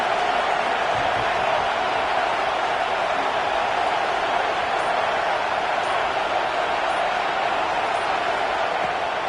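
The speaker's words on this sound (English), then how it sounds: "This crowd ready to make its presence known." Football stadium crowd at Michigan during a Washington at Michigan game, a dense, steady roar of many voices, loud and sustained without a break.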